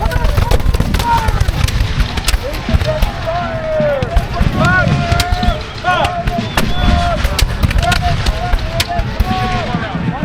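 Musket volley fire at a Battle of Bunker Hill reenactment, 250th anniversary: dense, irregular close and distant gunshots crackle continuously across the field under shouted commands and voices.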